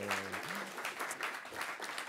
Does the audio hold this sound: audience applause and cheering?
yes